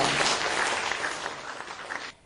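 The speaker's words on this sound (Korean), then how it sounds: "박수 부탁드립니다" Steady applause from an audience at a Korean foundation's eighth anniversary ceremony, dense clapping that holds evenly for about two seconds before cutting off abruptly near the end.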